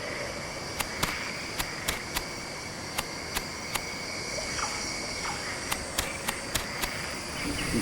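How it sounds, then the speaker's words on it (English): Ambient game soundscape for the second chapter of an indie video game: a dense hissing bed with clusters of sharp, evenly spaced clicks or ticks, a few at a time in bursts, over a low rumbling undertone, with no talking. "And here's the soundscape we'll be using in Chapter 2."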